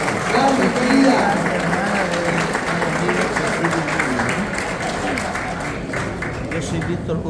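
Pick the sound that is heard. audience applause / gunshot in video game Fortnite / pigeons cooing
audience applause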